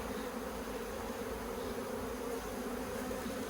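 A steady, droning buzz of many honeybees being shaken off a hive frame, close and continuous, with no voices.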